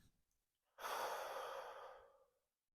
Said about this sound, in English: So if I take a few deep breaths,